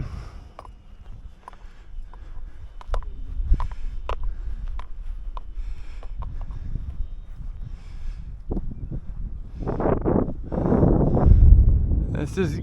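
Wind gusting around a flying E-Flite Turbo Timber model plane, a steady rumbling buffet that swells into heavier gusts near the end, with someone talking briefly at times.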